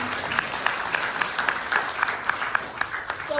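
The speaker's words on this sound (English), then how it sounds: "A little round of applause." Steady applause from a gathered crowd at a Juneteenth evening event in Albert Lea, Minnesota, many hands clapping continuously for a few seconds at moderate volume.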